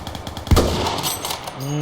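A sharp, loud gunshot in Minecraft bursts out amid rapid mechanical clatter, followed by ringing electronic game tones.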